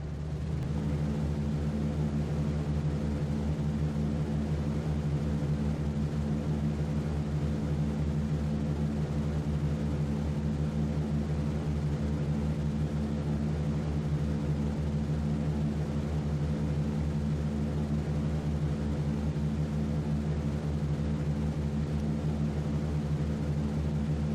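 A B-17 bomber in the B-17 The Mighty 8th flight game drones through its takeoff with a steady, dense propeller-engine roar and layered humming tones, constant and unbroken throughout, with no voices.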